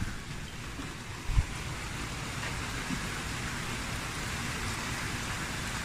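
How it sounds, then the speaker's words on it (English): Steady rain falls in a backyard, a dense even hiss of drops on surfaces that holds through the whole stretch, with one brief thump near the start. "Raining pretty good."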